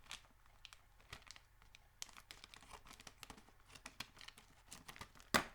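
Thin plastic bag of hot jerky from Australia being cut open at the top, giving close, irregular crinkling and snipping crackles with a sharper tear near the end.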